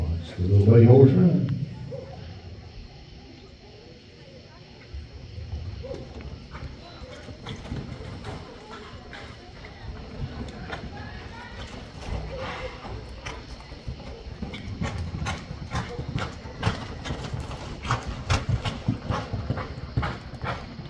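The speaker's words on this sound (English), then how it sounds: "Watch the little buddy horse run." Hooves clatter in a quick, steady rhythm as a horse runs at a rodeo event in Sparta, with a loud rumble at the start and talking over the galloping.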